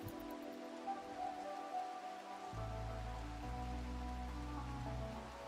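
Rain falling in the video game RimWorld: a steady soft patter under a low background hum that thickens partway through, with no talking.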